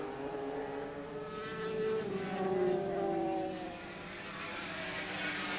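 500cc Grand Prix racing motorcycles at Silverstone in 1984, including a Suzuki, passing at a distance: a droning engine whine that rises and falls in pitch as the bikes sweep by, faint under a steady background rush.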